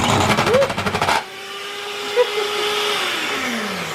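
An electric hand whisk runs in loud rapid pulses for about a second while carrot cake batter is mixed in a home kitchen, then cuts off, leaving a low steady hum.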